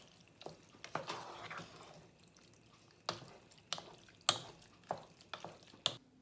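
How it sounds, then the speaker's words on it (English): A spoon stirs goulash in a pot on the stove, giving soft scraping and wet clinks in uneven strokes, up close but quiet, with gaps of near silence between them. "And just stir that in together."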